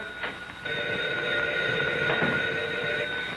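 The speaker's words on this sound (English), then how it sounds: "Answer the phone!" An old-fashioned telephone bell in a 1936 film scene rings continuously and fairly loudly with a steady metallic trill, with no talking over it.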